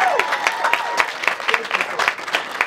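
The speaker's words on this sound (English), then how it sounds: "please give me a big round of applause for our project" An outdoor crowd gives a lively round of applause at the unveiling of an anti-racism mosaic mural in Windsor, with sharp, close handclaps and a few whistles mixed into the steady clapping.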